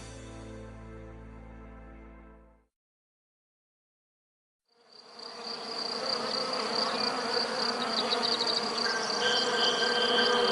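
Honeybees fill the second half with a dense, steady, close buzzing swarm that fades in after a short silence. Before the gap, an unrelated tonal sound plays.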